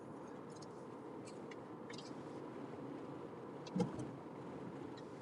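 A car cruises around Kansas City on a hot day, heard as a faint, steady low road rumble from inside the cabin, with one brief soft thump near the end.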